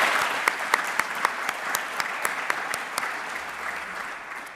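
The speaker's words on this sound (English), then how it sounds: "I think that needs a big hand of applause." Audience applause after a book launch at an evening event on research into intimate partner rape and the trial process, a steady wash of many hands clapping with a few sharper individual claps standing out, moderately loud and continuous throughout.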